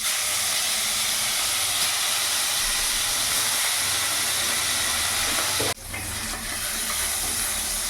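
Bata fish pieces drop into hot oil and sizzle in a loud, continuous hiss, with a brief dip and sputter partway through as more fish go in, and no talking.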